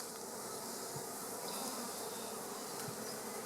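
Honeybees from an open hive during an inspection make a dense, steady, unbroken buzz that fills the space, close and continuous throughout, with no talking.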